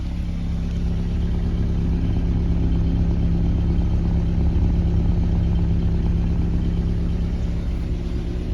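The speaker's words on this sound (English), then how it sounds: "So this is a little bit of the exhaust sound." Exhaust of a Nissan Sunny B15 idling, a steady low rumbling drone that holds even and unbroken throughout, close to the tailpipe with no talking.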